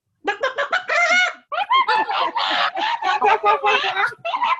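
During a told folk tale, several voices imitate clucking chickens, a rapid run of choppy, overlapping clucks and cackles with one brief pause in the middle.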